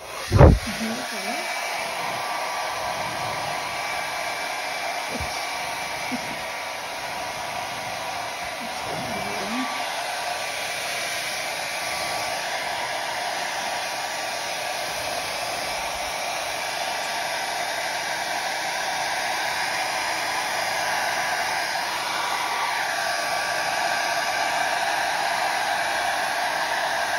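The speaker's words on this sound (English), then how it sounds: "pardon the sound of the blow dryer" A blow dryer blowing on acrylic paint during fluid art pouring on a long canvas, a steady loud airy whoosh running continuously throughout, with a brief knock at the start and faint handling noises.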